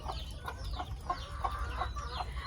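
Domestic mother hen softly clucking while tending ducklings on a farm, a quick series of short, faint clucks and peeps over steady background noise.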